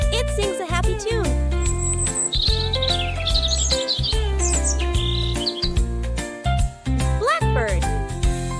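Songbird singing a cheerful, varied series of chirps and whistled notes over background music, with short bright trills.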